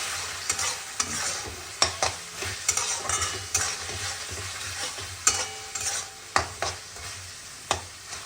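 Eggplant stir-frying with spices in a pan sizzles steadily beneath repeated sharp clicks and scrapes from a spatula, coming in an uneven rhythm about once a second. No voices.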